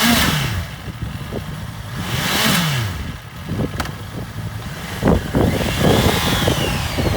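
A used 2018 Honda CBR650F inline four-cylinder sport motorcycle engine revs in repeated rising and falling blips over idle, close and fairly loud, with no talk.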